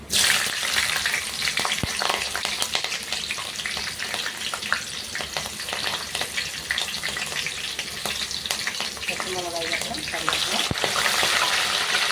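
Fennel seeds and green chillies fry in hot oil, giving a continuous close sizzle with scattered crackles and occasional stirring scrapes throughout.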